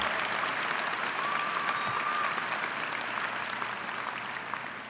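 Crowd at a university commencement ceremony applauds steadily, a broad continuous clapping that stays strong before tapering slightly toward the end; a brief faint tone drifts through the middle.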